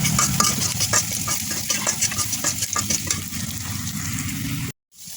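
Ivy gourd leaves stirred and fried in a pan, with steady broadband sizzling and repeated scraping strokes of a spatula throughout, close and fairly loud, ending in a brief sudden cutoff.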